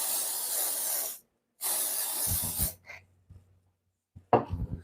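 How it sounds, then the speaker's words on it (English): Spray adhesive from an aerosol can is applied to stencil material in two long hissing bursts separated by a short pause, followed by a few soft taps and handling sounds. "And it is a spray adhesive."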